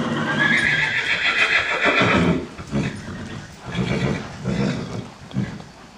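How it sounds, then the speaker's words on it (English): A 10-year-old Tennessee Walking Horse gelding gives a loud, drawn-out whinny, then hooves clop in an uneven rhythm nearby as the neigh trails off. "the 10-year-old Tennessee Walking Horse gelding named Justa Bad Influence."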